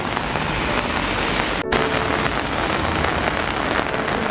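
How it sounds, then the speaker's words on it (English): Heavy rain pours down steadily in Paris in a dense, continuous hiss, with one brief break in the sound partway through. "I don't know if you can see, but it's raining a lot."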